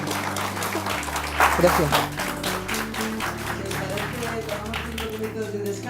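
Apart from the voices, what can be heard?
audience applause after a talk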